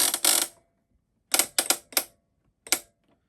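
A Hague linker drum is turned by hand, giving short, sharp mechanical clicks and ratcheting bursts spaced out by silence: two quick at the start, then a tight cluster of three and one more near the end.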